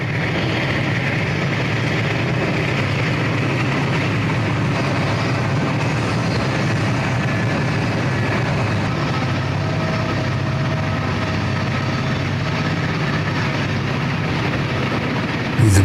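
An eastbound Erie Lackawanna coal train bound for the Portland power plant, running through a gorge toward a tunnel, giving a steady, loud rumble of engine and rolling cars that holds evenly throughout with no voices.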